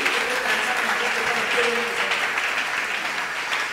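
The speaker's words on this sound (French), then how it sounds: "Est-ce qu'on peut acclamer le Seigneur pour les encourager?" Church congregation applauding to cheer the Lord during a service: a dense, steady wash of many hands clapping together, close and fairly loud, holding evenly without pause.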